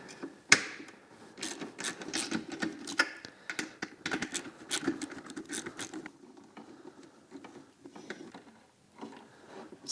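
Ratcheting and clicking of a deep well socket loosening 10mm nuts on a diesel heater, rapid irregular bursts of close metallic ticks with short pauses, fading to quieter handling noises.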